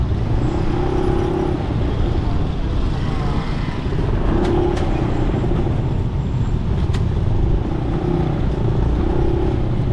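Road traffic crawling through Malagasan on the way to Tagaytay, near a road-widening site by an open canal: a steady, close rumble of engines with occasional vehicles passing, and no voices.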